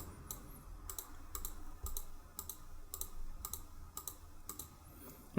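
Mouse clicks on an app element come as a run of about eleven crisp, evenly spaced clicks over a faint low background hum, with no talk.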